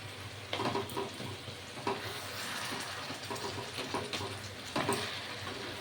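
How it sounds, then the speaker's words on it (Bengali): Fish head chhyachra, a Bengali wedding-style dish, stirred in a pan: continuous wet sizzling and bubbling with repeated scraping strokes of a spatula, close and fairly loud, no voices. "এই দেখুন এখন নাড়ছি"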